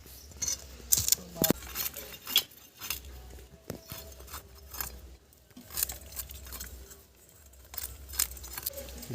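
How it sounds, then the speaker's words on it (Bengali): A knife cutting live koi fish during preparation of a home-style koi steamed in bottle gourd leaves: intermittent scraping and clicking of the blade, bursts of close metallic clatter separated by quiet pauses. "এই কই মাছগুলো এখন আমি কেটে নেব"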